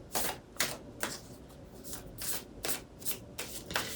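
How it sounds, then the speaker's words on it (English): A deck of tarot cards is shuffled by hand, giving repeated crisp riffling bursts in a quick, irregular rhythm, close and clear with no talking. "I picked those cards back up to shuffle them"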